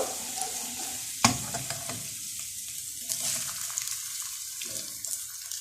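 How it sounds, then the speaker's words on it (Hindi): Chopped onions and garlic fry in a pan, giving a soft, continuous sizzle with a sharp clatter as they go in and light scraping and stirring over the top. "अब हमने इसमें अनियन डाल दिया और हम इसको भी फ्राई करेंगे।"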